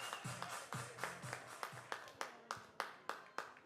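A crowd at a Bethune-Cookman versus Stetson college baseball game claps in a steady, even rhythm, one sharp clap every third of a second, spread out and moderately loud over low ballpark murmur.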